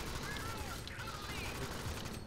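Gunfire in the Alien Swarm video game rattles as a dense, continuous burst of shots that fills the short stretch at steady loudness, with no clear talk.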